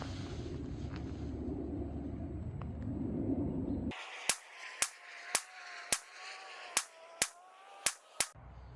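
A Nighthawk Custom 1911 pistol fires eight evenly spaced shots at a range, each a sharp loud crack. Wind rumble comes first, then the shots stand alone.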